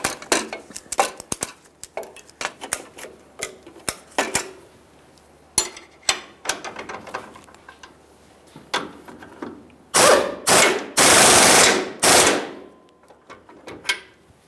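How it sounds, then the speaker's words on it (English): A ratchet strap is cranked tight to pull a Ford F-150 front lower control arm inward: scattered metallic clicks and clanks, then a run of loud, close ratcheting bursts near the end. "I'll just use a ratchet strap."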